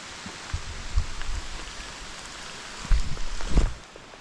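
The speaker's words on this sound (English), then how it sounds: "It be raining." Steady rain patters on a surface, a continuous hiss with a few louder close thumps of drops or drips.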